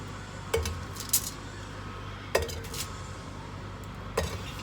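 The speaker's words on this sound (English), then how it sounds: "I'm gonna start with just putting them into the pan." Meatballs drop into a pan of sauce for a meatball sub, giving three soft wet plops with light clinks of metal pan and utensil, spaced a couple of seconds apart against a quiet kitchen background.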